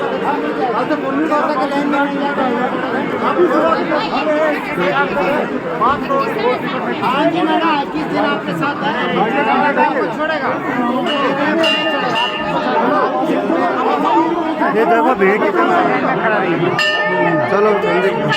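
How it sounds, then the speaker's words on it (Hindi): A large, dense crowd of pilgrims at Badrinath temple, with steady close-up chatter and babble all around and occasional bell rings and metallic clinks cutting through. "बहुत ज़्यादा भीड़ थी, बहुत ज़्यादा भीड़ थी आज तो।"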